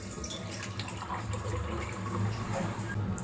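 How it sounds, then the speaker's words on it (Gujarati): Water swishing and splashing in a bowl as something is rinsed by hand to wash out sourness from lemon or vinegar, a soft continuous wet churning close by with small drips, no talking. "હવે આને આપણે છે ને 2 થી 3 પાણીથી આ રીતે ધોઈ લેવાનું છે"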